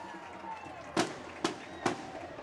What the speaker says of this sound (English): and there's the fireworks.